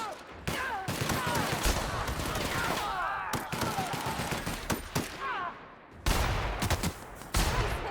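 Bursts of rapid automatic gunfire in a video game, several volleys separated by brief pauses, with players chatting over the shooting.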